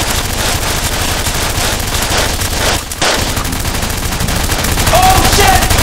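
Rapid bursts of gunfire in a living room shootout, loud and dense throughout with a brief dip near the middle, swelling again toward the end.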